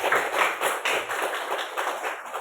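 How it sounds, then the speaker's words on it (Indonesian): A class of students applauding their classmates, steady dense clapping from many hands that carries on evenly from start to finish, heard within a room. "Tepuk tangan dulu untuk teman-teman."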